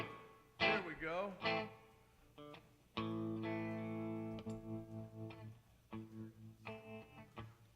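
An instrument sounds through a reverb effect at an open mic night, sustained tones and bending swells ringing out with lingering tails, a few separate phrases at moderate volume.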